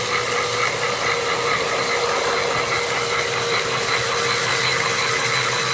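A Traxxas 4Tec 2.0 Ford GT RC car spins in place, its motor producing a loud, steady high-pitched whine with a rough, buzzing drone underneath that holds without a break.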